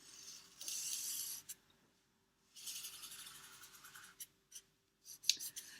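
Pencil scratching across card while drawing an arrow shape, heard as quiet bursts of rubbing strokes separated by short pauses, close and soft, with no talking.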